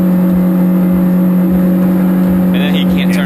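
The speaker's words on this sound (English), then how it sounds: "you can hear the engine is still at full rev" A car engine holds a high, sustained whine at constant pitch, loud and close, with a voice briefly speaking near the end.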